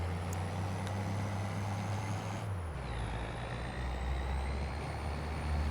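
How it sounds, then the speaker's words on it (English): Steady low engine drone of a pickup truck moving farm equipment, with a continuous rumble that shifts pitch midway as it changes speed, a faint high whine overhead, no voices. "Since the tractor's headed up to the farm, we'll just use the pickup truck."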